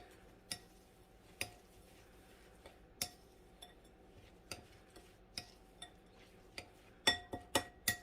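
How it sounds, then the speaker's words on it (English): Crumbled cheesecake crust crumbs being mixed in a bowl, heard as faint, evenly spaced clinks and taps of a utensil against the bowl, speeding into a quick cluster of sharper knocks near the end, in a quiet room. "We're just going to give that a good mix."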